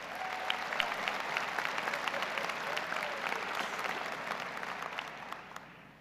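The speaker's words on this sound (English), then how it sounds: "Give yourselves a round of applause." Graduates at a 2021 Southern Utah University commencement ceremony fill the hall with dense, sustained applause, a broad wash of many hands clapping at once that holds steady and then gradually tapers off.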